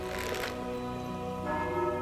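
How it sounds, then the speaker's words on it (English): A bell rings in a video game, a bright metallic tone with sustained harmonic ringing that swells again near the end, set against steady game ambience. "I never thought I'd be so happy to hear the ringing of a bell."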